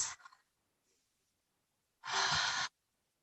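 Open-mouthed exhale during a yoga sculpt class, a brief soft breath at the start and then a louder, breathy whoosh lasting about half a second, close and alone.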